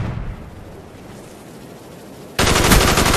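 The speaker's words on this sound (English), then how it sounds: "Yo, you see how fast I shot?" Rapid gunfire from Call of Duty: Black Ops, a sustained noisy burst that cuts in suddenly near the end and stays loud, following a stretch of quieter game ambience.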